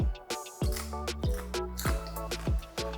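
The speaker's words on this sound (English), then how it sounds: "We cut the bacon." Crisp crunchy cuts through crispy cooked bacon repeat at a steady rhythm, each one a sharp close crackle, with a low droning hum running underneath.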